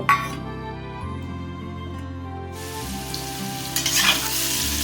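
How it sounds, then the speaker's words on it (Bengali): Potatoes with salt and turmeric fry in oil in a kadai, giving a steady close sizzle with stirring scrapes and a few louder clinks near the end, over a soft tonal hum. "আলুতে নুন হলুদ দিয়ে দিয়েছি ভালো করে ভেজে নেব"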